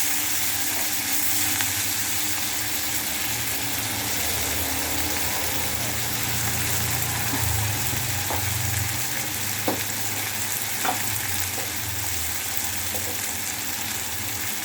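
Onions sizzle steadily in a hot pan with rock salt while a cauliflower-potato kurma is being cooked, a continuous close frying hiss with a few faint clinks of stirring and no talking.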